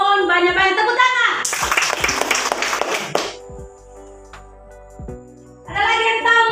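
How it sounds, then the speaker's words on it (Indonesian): Children in a classroom clap together for about two seconds, a bright rapid burst of small hands between stretches of adult speech, with a few faint knocks in the quieter gap. "Tepuk tangan."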